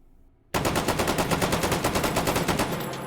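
SCAR Mk 17 rifle fitted with a muzzle brake, fired in the VR game H3VR: a sudden loud burst of rapid, evenly spaced shots in quick succession, about twenty rounds over under three seconds.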